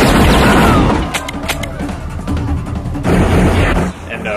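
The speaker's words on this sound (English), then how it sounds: "both Van Damme's men and Rourke's men start firing at each other" Action-movie shootout from the film Double Team, a loud, dense barrage of overlapping gunshots and booms with rattling bursts, heavy and continuous throughout with no clear pauses.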